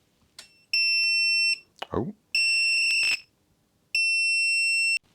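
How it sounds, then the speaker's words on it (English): A circuit board buzzer sounds three loud, sustained high beeps at power-on of 5 volts, each about a second long with gaps between; a brief voice exclamation comes between the first and second beeps. "that buzzer beeped 3 times"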